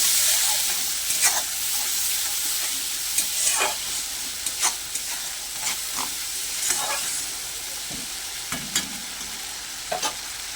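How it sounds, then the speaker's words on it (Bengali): A paste of mustard, poppy seed and green chilli fries in a pan, a constant close sizzle broken by irregular scraping strokes and soft spattering pops, with no talking. "দিয়ে দেবো পেস্ট করা মশলাটা, সর্ষে পোস্ত আর কাঁচা লঙ্কা। মশলাটা ভালো করে কষিয়ে নেব।"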